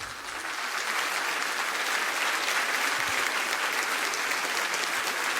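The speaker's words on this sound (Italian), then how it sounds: "che applaudiamo subito" A concert audience at a Sardinian charity choir event claps steadily, a dense, even wash of applause that holds at the same level throughout.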